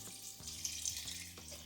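Tap water pours steadily into a pot of white distilled vinegar for pickling jalapeños, a continuous close splashing stream with a brief break partway through.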